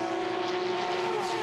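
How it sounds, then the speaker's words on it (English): A Porsche Carrera Cup race car's 450-horsepower six-cylinder engine screams at high revs into turn 1 at Townsville, a loud, steady, sustained wail with a rising pitch. "The 450 horsepower, 6-cylinder engine screaming down through turn 1"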